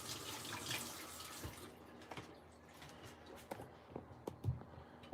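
A kitchen tap runs over an orange being washed, a soft steady stream that fades partway through, leaving scattered drips and light handling clatter.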